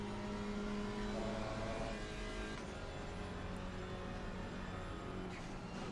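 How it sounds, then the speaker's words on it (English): Alpine GT4 race car in Assetto Corsa Competizione at the Nürburgring, its engine droning loud and steady as it brakes for a chicane, with tonal engine harmonics shifting down and no talk over it. "Breaking down for this chicane."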